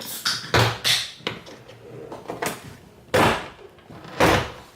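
A car door panel is pried loose to fit carbon fiber GT3 mirrors on a Scion FR-S, with a series of loud, sharp plastic snaps and cracks at irregular intervals, close up, with scraping and rustling between them.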